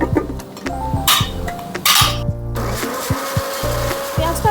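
A kitchen blender grinding two small chopped tomatoes into paste for an egg curry, in short, loud, stop-start bursts of whirring motor with pitch shifting as the blades spin up and slow down, close to the microphone.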